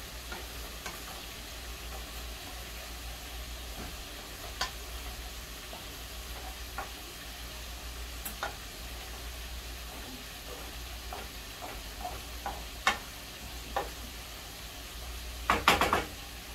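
Cabbage fried with fatback sizzles steadily in a pan through the whole stretch, with occasional clicks and scrapes of stirring and a louder clatter of utensils near the end.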